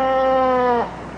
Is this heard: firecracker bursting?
no